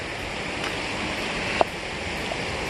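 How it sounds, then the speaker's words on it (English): Waterfall on a mossy stream along a forest creek trail, a steady broadband rush of falling water, close and unbroken, with a single faint tap partway through. "Back at the moss stream with the waterfall up here."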